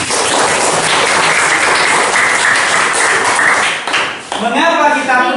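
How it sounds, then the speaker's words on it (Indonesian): Schoolchildren in a classroom clap together in a dense, lively burst for about four seconds, then a voice starts talking as the applause fades. "Tepuk tangan semuanya."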